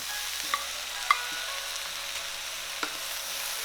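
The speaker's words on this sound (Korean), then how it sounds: "향이 올라오면 연근을 넣고 1, 2분 정도 볶아주세요." Steady sizzling of lotus root and other vegetables stir-frying in a hot pan for mala pasta, with a few soft clinks of a utensil stirring, no voices.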